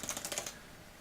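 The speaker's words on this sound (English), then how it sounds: "This keyboard is now paired, and I can now type" Typing on a Bluetooth tablet case keyboard, a quick run of about six crisp, fairly quiet key clicks in uneven rhythm, then stopping into near silence.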